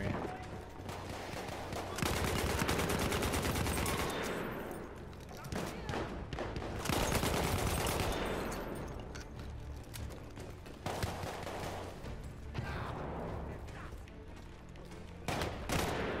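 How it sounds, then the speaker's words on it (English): Rapid bursts of video game gunfire aimed at the player inside a dining area, loud and sustained in waves, with a voice talking over parts of it. "stop shooting me"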